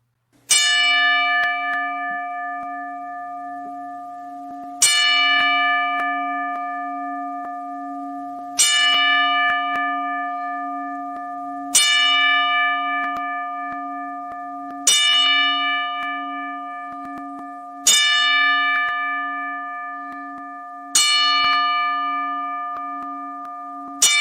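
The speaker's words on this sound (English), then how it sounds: "here we go. 10 bell salute." A ten-bell salute rung in tribute: a single bell struck seven times at a slow, even pace about every three seconds, each clear ring sustaining and fading before the next, with no voices.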